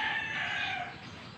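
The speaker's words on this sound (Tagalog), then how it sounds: "Nakarinig ka na naman dyan ng manok sa kabila." A small bantam rooster crows in one sustained, loud, close call that fades slightly toward the end, with no voices over it.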